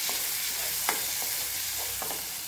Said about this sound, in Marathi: छान असं हे परतवून घ्यायचे।